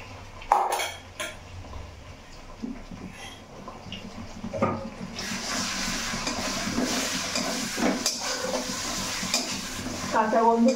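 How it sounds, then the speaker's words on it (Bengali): Ginger and garlic paste fries with onions in a pan, first with clinks and scrapes of a spatula, then a fuller, steady sizzle as the stirring goes on close by. "কাঁচা গন্ধটা কাটা পর্যন্ত কষাবো"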